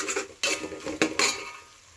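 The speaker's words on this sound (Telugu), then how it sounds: "ఈ ఆనియన్ పేస్ట్ అల్లం వెల్లుల్లి పేస్ట్, ఆనియన్స్ బాగా వేపుకుందాం ఫస్ట్." A metal spoon scrapes and clinks against a pan as onions with ginger-garlic paste are stirred and fried, several sharp strokes over a soft sizzle, with no voices.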